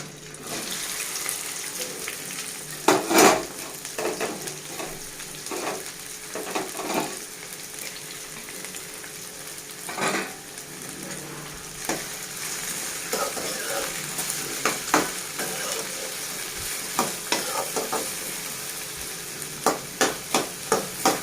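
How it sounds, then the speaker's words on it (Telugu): Okra frying in about three spoons of oil while being stirred, a steady hissing sizzle broken by sharp spatula scrapes and taps, some louder clatters near the end, no voices. "బెండకాయ మొత్తం ఫ్రై అవ్వాలండి. ఫ్రై అవ్వడానికి ఒక 3 మినిట్స్ టైం పడుతుంది. మనం ఇలానే కలుపుతూ ఉండాలి."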